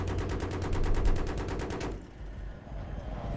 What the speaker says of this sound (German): Einfach alles kaputt schießen.